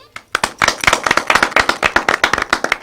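An audience at a Haryanvi comedy stage play claps loudly and close, a quick burst of sharp, rapid handclaps that quickly settles into a steady, rhythmic patter.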